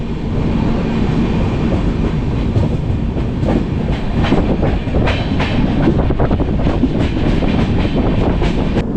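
A Mandovi Express passenger train on the Konkan Railway rolls steadily along the rails near Veer station, loud and close, with rhythmic clickety-clack of wheels over track joints throughout.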